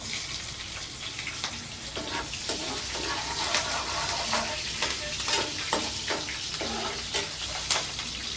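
Curry leaves and green chillies hit hot oil in a pan and crackle loudly with bursts of sputtering pops over a constant sizzle, along with the scrape of stirring close by.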